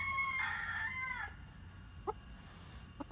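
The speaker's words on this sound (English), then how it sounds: "Silky chickens. So funny looking." A Silkie rooster lets out a short, thin crow, followed after a pause by a single soft cluck close by amid quiet background noise.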